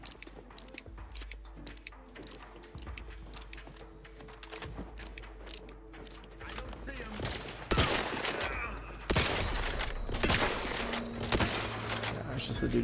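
Rapid gunfire bursts in Outer Worlds 2 on the hardest difficulty, sharp cracks and volleys growing louder in the second half, mixed with game effects and a voice talking over them.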